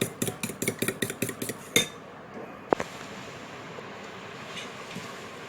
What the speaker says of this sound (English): And now we'll beat the eggs.